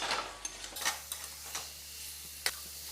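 Egg and potato fry in a pan for Bengali egg curry, a steady soft sizzle broken by occasional spoon stirs and light clinks of metal against the pan, fairly quiet and close.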